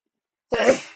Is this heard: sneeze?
yes